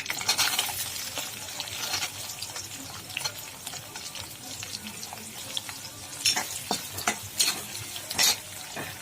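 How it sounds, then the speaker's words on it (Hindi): Chopped onions and curry leaves frying in a pan for poha, a continuous close sizzle with scattered stirring clinks and scrapes over about nine seconds, no voices. "तो इसमें हम ये मीठी नीम डाल देंगे और इसके बाद हम ये कटे हुए 2 प्याज इसमें डाल देंगे"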